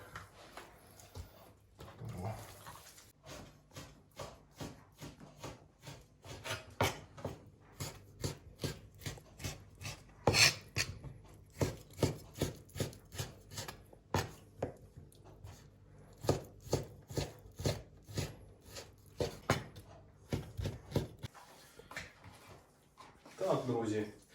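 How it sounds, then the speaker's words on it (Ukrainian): A knife chops prunes on a cutting board for a meat roll, giving a rapid run of crisp, close, even knocks that continue almost without pause, with a few louder strikes and soft scraping between cuts. "Тепер будемо нарізати чорну сливу."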